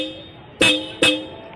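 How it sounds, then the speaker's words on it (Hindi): Two short, loud honks of a Bajaj Pulsar NS400Z motorcycle horn in quick succession, close by, over a quiet steady hum. "गाइस इस बाइक में हॉर्न लग चुके हैं एकदम ओरिजिनल।"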